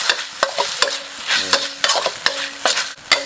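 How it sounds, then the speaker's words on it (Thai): Curry powder sauce being stir-fried in a pan for a crispy fried snapper dish, with a steady sizzle broken by repeated sharp scrapes and clacks of the utensil against the pan. "ผัดผงกะหรี่ ใส่เลย"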